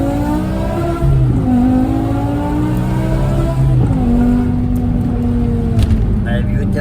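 BMW E60 M5 with a V10 engine pulling hard from inside the cabin, a steady loud drone whose pitch climbs and drops with gear shifts, with people talking over it.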